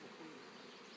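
Honey bees drone around an opened hive, a low steady buzz with a sharp click at the very end.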